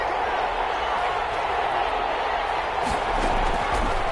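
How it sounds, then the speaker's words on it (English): Stadium crowd noise in a PS4 American football game, a broad continuous roar of cheering and applause that swells slightly near the end. "How about some applause for the defense there?"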